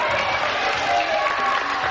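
Studio audience at a French children's television game show, a loud continuous burst of clapping and cheering filling the moment.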